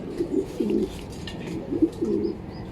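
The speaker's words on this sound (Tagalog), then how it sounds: "first bird natin" Racing pigeons at their home loft after a 327 km race give soft, close coos in several short rolling bursts, with a few faint chirps behind and no talking.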